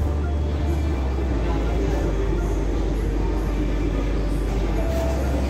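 Steady low rumble of an approaching metro train filling the space, a constant heavy drone with faint murmur of a crowded platform.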